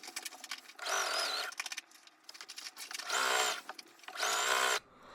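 Sewing machine stitching rows of a rag quilt together, running in three loud, steady bursts of whirring with quieter pauses between them.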